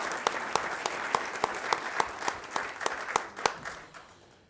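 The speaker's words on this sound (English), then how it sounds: "let's give one big round of applause to all staff and students" An audience at a school district recognition meeting gives a round of applause for staff and students: steady crowd clapping with a few sharp, regular claps standing out before it fades toward the end.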